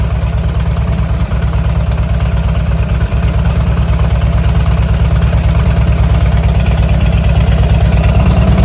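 A warmed-up 2008 Harley-Davidson Ultra Classic motorcycle engine idles close by, with a steady, loud, low, even pulsing throb throughout.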